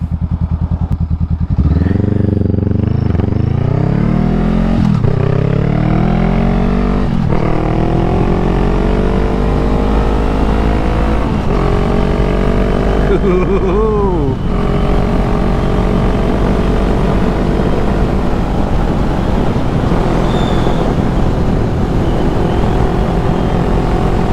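A Honda Rebel 500 motorcycle accelerates hard away on a slight downhill, loud and close, its engine note rising through several gears with short dips at each shift.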